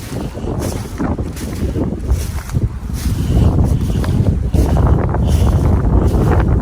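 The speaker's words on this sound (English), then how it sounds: "very windy." Strong wind during an April 2023 flood roars and buffets the microphone in a continuous, loud rumble with gusty surges, with no voices.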